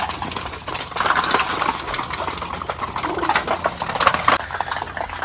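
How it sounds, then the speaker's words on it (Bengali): Giribaz pigeons coo repeatedly in soft, throaty bursts while feeding, with light scuffling and pecking sounds around them, close by, in Bangladesh. "কবুতরগুলো খাইতে দিচ্ছে এখন সব খাচ্ছে"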